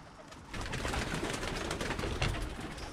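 Birmingham Roller pigeons cooing amid a dense, noisy background of birds, with steady fluttering and rustling throughout; no voices.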